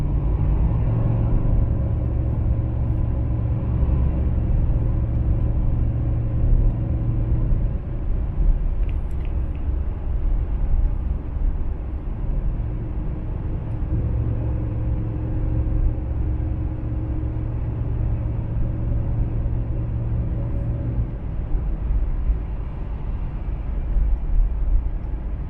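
A Ford 6.2 V8 gas pickup with a 6-speed transmission and 4.30 gears tows a heavy load, giving a steady loud low engine drone with gear-change shifts in pitch and continuous road rumble, no talking.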